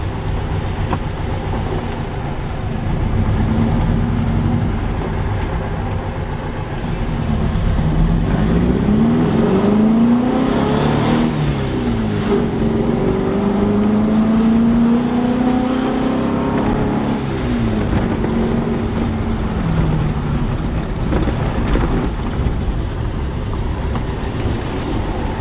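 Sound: restored car driving uphill in third gear at 20 km/h

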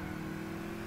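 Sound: car engine revving in video game Gran Turismo 6

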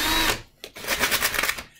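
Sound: power drill spinning dowel against sanding block

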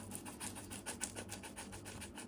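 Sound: grating boiled potato

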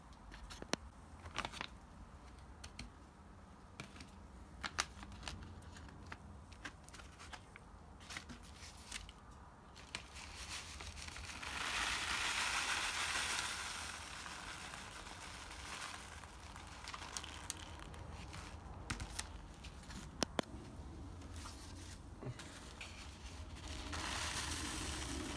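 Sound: filling plastic bag with calcium acetate powder

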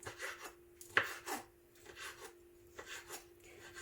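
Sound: knife chopping dried prunes

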